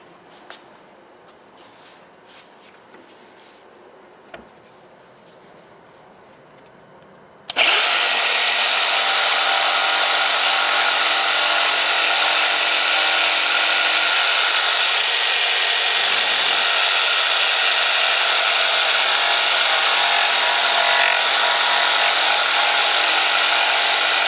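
Jigsaw cutting a center notch in wood starts abruptly after some quiet handling noises, then a loud, constant high-pitched buzzing saw whine continues unbroken, with a brief dip in pitch partway through.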